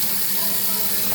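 Tap water pours steadily into a bowl of rice being rinsed, a continuous broadband splashing rush that stays close and fairly loud for the whole moment without pause.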